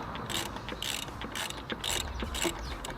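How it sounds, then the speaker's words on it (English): A spark plug socket wrench ratchets to loosen a lawnmower spark plug, a faint series of quick clicking strokes repeated in short bursts, close by. "we need to get this spark plug socket, make sure it's ready to loosen"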